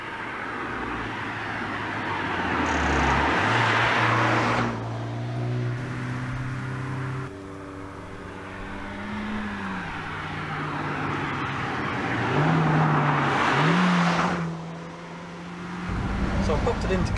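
A Honda Civic Type R (FK8, 2017/2018) in comfort mode drives through a village, its engine note rising and falling through gear changes in a steady cabin drone, with a pitch sweep around each shift and no talk.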